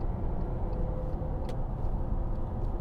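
A 2009 Audi A6 Avant 2.7 TDI diesel with Multitronic gearbox gives a steady low engine and road rumble from inside the cabin, holding even throughout with no rise or voices.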